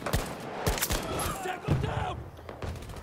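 Battlefield 2042 gunfire comes as repeated bursts of shots and thuds, with some volleys close and loud and others more distant. Voices and game noise run underneath.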